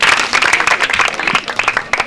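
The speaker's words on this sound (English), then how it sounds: "I am making a clap for him." Scattered hand claps at an S gene awareness campaign gathering in Amai Kingdom, a few people clapping unevenly and close by for about two seconds, with no talk over them.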